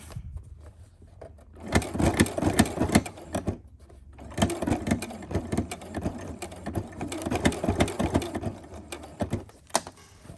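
A sewing machine stitching a fabric face mask runs in close, loud bursts of rapid mechanical chatter, pausing briefly before starting again, with no talking over it.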